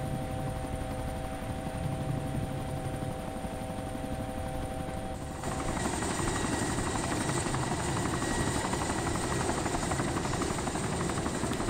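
A helicopter in the survival video game DayZ comes in to land with a continuous, whirring rotor drone that grows louder and fuller about halfway through, with no talking over it.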